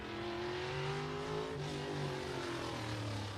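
A race car lapping F8 Showtime Speedway in Pinellas Park, Florida, its engine a loud, sustained harmonic drone that shifts pitch as it revs through the turns, heard continuously with no talk.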